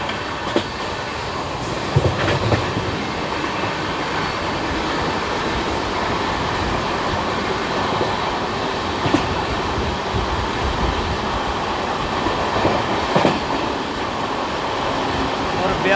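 The 14624 Seer Govardhanpur Varanasi Express runs non-stop through Beas railway station at about 110 km/h, a steady heavy rumble with rhythmic wheel clatter and occasional sharper clunks throughout.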